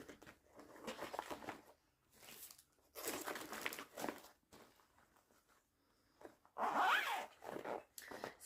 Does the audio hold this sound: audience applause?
no